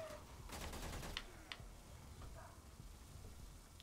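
Gunfire in the video game Warframe, a rapid burst of shots up front followed by a few sparse single cracks, moderately loud over a low background hum.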